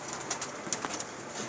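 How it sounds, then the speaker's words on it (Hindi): Pigeons kept in pairs by fanciers give soft coos mixed with light clicks and faint wing or foot sounds. They are fairly close, quiet and scattered. "अंसर भाई इनके जो है कुछ कबूतर चेक कर रहे हैं"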